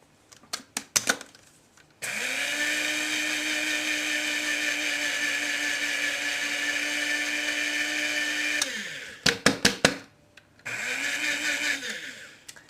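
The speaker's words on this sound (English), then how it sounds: "put the sugar in the food processor and process it until it is super fine" A food processor grinds sugar until super fine: a steady, loud whirring motor hum runs for several seconds, framed by short clattering pulses and a brief second burst near the end, with no talk.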